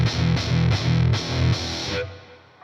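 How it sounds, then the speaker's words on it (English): Electric guitar driven through a Boss MT-2 Metal Zone distortion pedal into the front of an amp, producing four heavy, buzzy, thick chord stabs in steady rhythm, then a brief decaying ring. "Now if I bring the Metal Zone in,"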